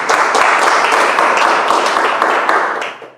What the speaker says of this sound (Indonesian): Tepuk tangan buat Anda semuanya.